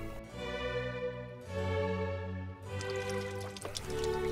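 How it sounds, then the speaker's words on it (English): A backyard waterfall water feature on a small city lot runs steadily, its water pouring and trickling in a close, continuous splash with no voices. "The sound from this water feature helps mask some of the neighborhood noise."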